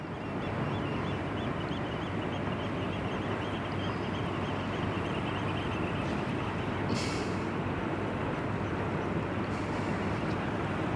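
The 400 m container ship COSCO Shipping Gemini passes on the Westerschelde in the Netherlands, a dense continuous low rumble of engine and water under a broad outdoor wash, with faint bird calls scattered above it.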